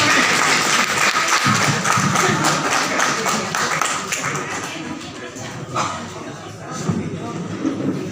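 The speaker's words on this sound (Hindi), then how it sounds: "एक बार जोरदार तालियां बजा दीजिएगा।" Loud, dense applause from a crowd of senior citizens at a Republic Day celebration, sustained for several seconds with scattered claps and thuds, fading slightly toward the end as voices mingle beneath.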